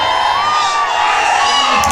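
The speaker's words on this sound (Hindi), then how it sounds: "देखिए कितना भीड़ लग गया है पूरा चारों तरफ" A large crowd gathers to see politician Owaisi in Samda Basti, Kishanganj, a loud dense roar of shouting and cheering voices all around, continuous throughout.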